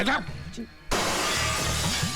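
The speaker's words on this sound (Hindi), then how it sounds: "फिर से मेरा कांच तोड़ दिया" A glass window shatters in a sudden loud crash that turns into a long spray of falling shards, after a brief spoken exclamation; talk continues faintly under the breaking glass.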